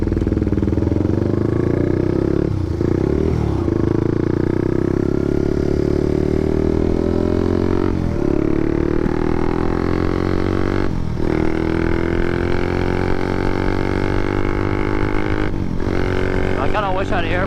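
A Honda motorcycle cruises at high RPM on a freeway, its engine a loud, continuous buzzing drone that climbs slowly in pitch, mixed with rushing wind close to the rider.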